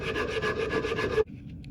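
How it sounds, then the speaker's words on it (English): Rapid back-and-forth rasping of coarse 60 grit sandpaper on a wooden handle held in a vise, loud and close, stopping abruptly after about a second. "sitting at your vise with your 60 grit sandpaper, you're going to hold this on an angle and start sanding."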